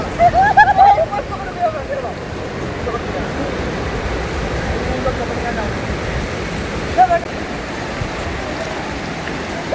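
Waves at Tajpur beach wash in as a steady, hissing rush of surf, with brief voices near the start and again midway.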